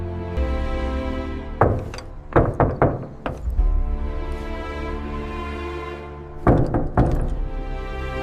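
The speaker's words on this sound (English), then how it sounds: "The sound of a knock on the door." Knocks on a door come in short separate clusters of several sharp raps, set against sustained musical tones, with no talking.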